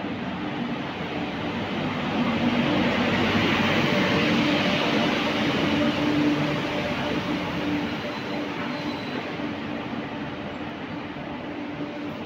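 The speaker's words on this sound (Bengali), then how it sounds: "এই আমাদের ট্রেন ঢুকছে।" A train pulls into a station with a long, broad rumble that swells slightly in the middle and then eases, continuous and moderately loud with no talking.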